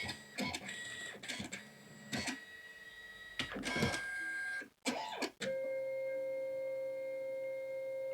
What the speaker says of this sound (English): And then it'll start printing.